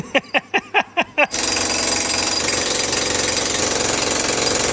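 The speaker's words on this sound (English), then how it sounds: "He's ready to get jackhammering." A jackhammer pounds stone at a basement entrance, starting with a short burst of about six distinct loud blows, then settling into continuous, dense hammering close by.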